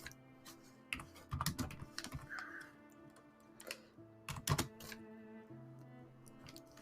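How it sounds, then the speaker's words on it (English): Quiet clicking of keys on a computer keyboard in uneven bursts of typing, close and soft, with pauses between runs and no talk. "I'm typing out my version in Discord"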